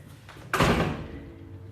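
A door in a vacant property for sale swings open with a single sudden thump and rattle, followed by a short fading rumble, close and fairly loud with no talk.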